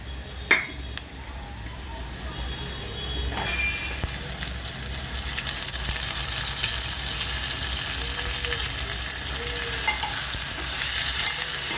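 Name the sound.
onion frying in pan with spices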